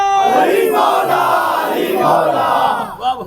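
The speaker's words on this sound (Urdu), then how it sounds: "نعرے حیدری" A large congregation at a religious gathering shouts a loud collective slogan in response, a dense roaring crowd cry that swells and fades.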